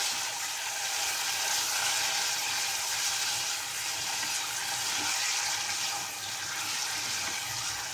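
About 250 grams of chicken cooking on sautéed garlic in a pan, giving a steady, dense hiss of sizzling that holds at an even level throughout.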